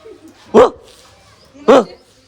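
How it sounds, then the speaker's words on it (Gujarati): A guard dog on a house rooftop barks twice, loud and close, the two sharp woofs about a second apart with quiet in between. "આવતા વેત જ અમને ભોકવાની એણે શરૂઆત કરી દીધી છે"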